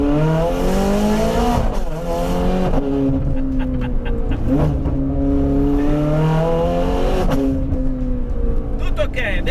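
A Ferrari 430 Scuderia engine roars at full throttle with open exhaust valves, loud and close from inside the car, pitch rising and falling through gear changes, with talk over it at times.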